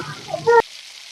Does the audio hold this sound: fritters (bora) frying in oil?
yes